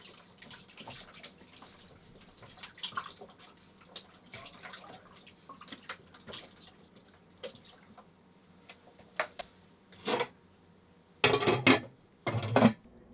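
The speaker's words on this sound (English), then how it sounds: "Pour the beef stock over the roast." Beef stock poured over a roast with bay leaves in a slow cooker: faint trickling and dripping with light clinks, then a few louder, splashy bursts near the end.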